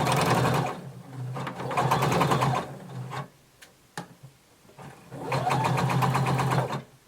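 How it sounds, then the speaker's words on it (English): A home sewing machine runs a hem around a tapered skirt in fabric, its fast needle chatter coming in two long bursts with a quiet pause between, close and clear. "we're going to sew that hem all the way around"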